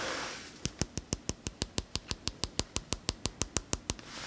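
Fingertip tapping on the thin glass screen of a Samsung Galaxy Z Flip 3 phone, a steady run of about twenty quick, crisp, light clicks, evenly spaced and close, with faint background hiss.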